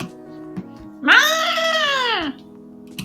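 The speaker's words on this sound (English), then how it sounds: "Sounds like a cat." A long, drawn-out cartoonish cat meow from the video game Hustle Cat, set in a cat cafe, rising and then falling over about a second, clear and close over a steady low background hum.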